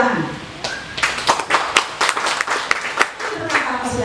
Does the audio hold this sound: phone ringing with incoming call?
no